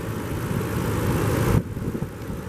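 A 2017 Lexus GX460's 4.6 liter V8 running, a steady close engine hum and whir that suddenly drops to a quieter idle partway through.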